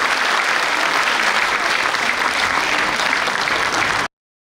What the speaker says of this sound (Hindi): बस जोरदार तालियां बजाते रहेंगे।